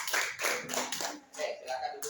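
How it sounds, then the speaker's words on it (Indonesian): Hands clapping together in a classroom, a brief burst of applause from students with bright, dense claps and a voice speaking partway through. "Tepuk tangan buat Azam."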